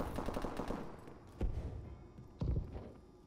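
S-12 shotgun fire in Call of Duty: Advanced Warfare, a burst of quick shots followed by two heavy booming blasts spaced about a second apart, loud and close amid game noise.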